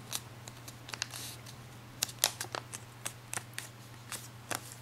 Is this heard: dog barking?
no